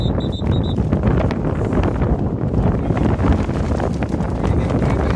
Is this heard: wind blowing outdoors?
yes